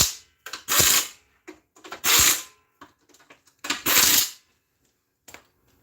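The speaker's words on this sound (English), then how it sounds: "so we'll just tighten these right back up" Screws being tightened back into plastic on a Polaris sear repair give several short, close ratcheting bursts separated by pauses, with faint clicks and handling noise in between.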